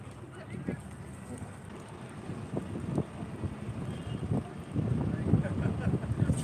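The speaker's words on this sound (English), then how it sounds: "Jeez, that wind." Strong wind buffets the microphone at a fishing harbour in Bridlington, a continuous low rumble that swells and gusts, growing heavier toward the end, with faint voices in the background.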